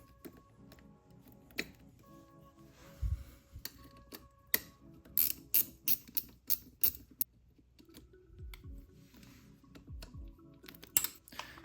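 Ratcheting and clicking from tools removing bolts and nuts near the battery on a 1980 Honda CB750F motorcycle, a quick run of sharp metallic ticks with short pauses and occasional low thuds, close and quiet, with no talking.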